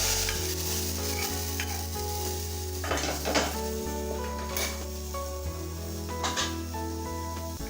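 Hot tempering of dried red chillies and curry leaves in oil is poured into a spinach lentil coconut curry, making a continuous close sizzle with a few sharp bursts and stirring scrapes, no voices.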